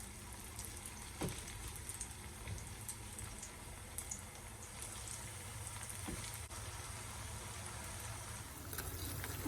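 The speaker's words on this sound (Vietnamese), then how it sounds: "Tiếp tục thì mình sẽ chiên hết cái phần còn lại." Potato sticks fry in hot oil in a home kitchen, giving a steady crackling sizzle with small pops and no talk.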